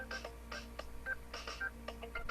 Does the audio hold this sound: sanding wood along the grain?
no